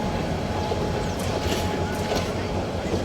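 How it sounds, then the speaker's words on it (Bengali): A train stands at Bidyaganj station in Bangladesh, giving a steady, loud, dense rumble with faint metallic clatter, while voices murmur beneath it throughout. "ট্রেনটা মনে হয় এখানে দাঁড়াবে এই স্টেশনে"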